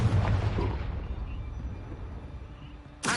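A Confringo fire spell explodes in Hogwarts Legacy with a loud, booming burst at the start that decays into a rumbling tail, followed by a sharp new blast at the very end.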